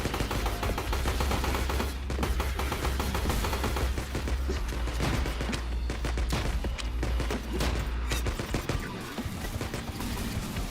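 Continuous weapon fire in the indie video game IVOR, a dense and loud barrage of rapid shots and booms that runs unbroken for about ten seconds.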